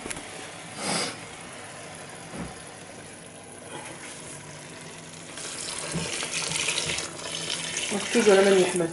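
Water is poured into a cooking pot on a stovetop while preparing a couscous sauce with cabbage, turnip, carrot and potato, a steady running splash that swells louder toward the end.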